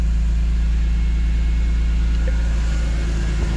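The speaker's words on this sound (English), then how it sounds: "But it seems to be holding a good idle." A Dinan-modified BMW E46 M3 with about 214,000 miles idles steadily up close, running rich, with a deep low rumble and no talk.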